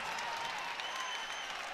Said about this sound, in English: listen to that crowd in Spokane